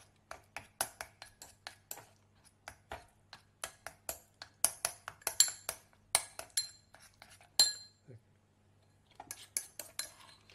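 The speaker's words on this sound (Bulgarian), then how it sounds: "Разбъркваме добре всичко." A utensil stirs sourdough starter with whole-grain rye flour in a bowl or jar, giving a steady run of quick clinks and scrapes against the container, close and fairly light, with a short pause before a final burst of taps.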